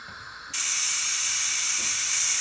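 A pressure cooker cooking dal palak lets out a loud, steady hiss of escaping steam, the whistle rising abruptly and holding continuously close by.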